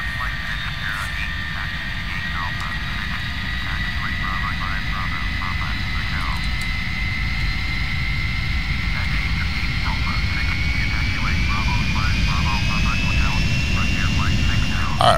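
Lockheed L-1011 jet engines taxiing in the Prepar3D flight simulator, a steady loud turbine roar with layered high whining tones that slowly rise in pitch, continuous throughout without pauses.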